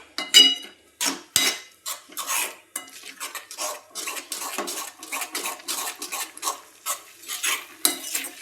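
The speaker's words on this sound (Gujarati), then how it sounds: "કાજુ અને બદામ બે મિક્સ કરીને અને ધીમા ગેસે જ આપણે એને શેકાવા દઈશું।" Chopped cashews and almonds roasting over a low flame for semolina shiro are stirred in a pan, making repeated close scraping strokes with a faint sizzle underneath.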